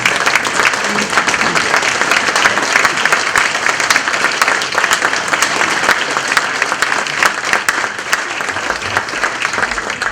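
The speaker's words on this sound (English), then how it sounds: "I would like everybody to stand up and give him a round of applause" A standing audience at a Hamilton-Wenham athletic hall of fame ceremony gives a loud, sustained round of applause, dense clapping filling the room steadily without letup.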